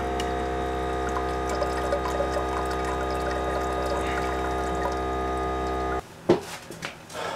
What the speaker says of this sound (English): if I take this out completely, water just pours out of it